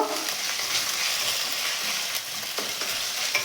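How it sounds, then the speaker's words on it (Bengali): Ginger paste fries and is stirred in a pan for a simple chholar dal, a loud, steady, close-up sizzle with the soft scrape of stirring throughout and no voices. "আদার কাঁচা গন্ধটা যাওয়া পর্যন্ত এটাকে একটু ভালো করে কষে নেব।"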